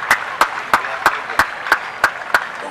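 An audience at a youth conference debate claps to welcome a speaker, about nine sharp, evenly spaced claps in steady unison.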